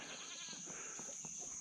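Goats bleat faintly in the distance while a dog chases them, a few thin cries over a steady background hiss, quiet and far off.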